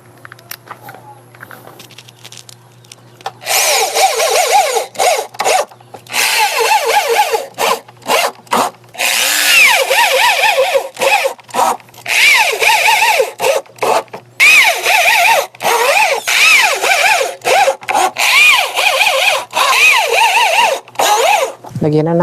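A power drill drives wood screws into a subwoofer box in repeated loud, close whirring bursts that start and stop, separated by brief pauses.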